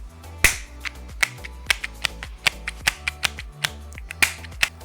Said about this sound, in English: So every time I open the case, it gives me this kind of a sound.